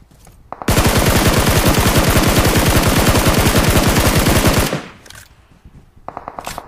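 A long, loud burst of rapid automatic machine gun fire from a mobile shooter game played on an iPhone 11 hammers steadily for about four seconds, then stops abruptly, followed by a few shorter, quieter shots.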